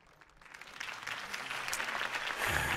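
Crowd applause in a Batman video game builds from quiet to a sustained, dense clapping, heard alone and at moderate distance.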